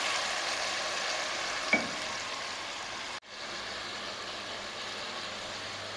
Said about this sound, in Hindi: अब इसमें मैं डाल दूंगी ये अदरक लहसुन, इसको थोड़ा सा फ्राई कर लेंगे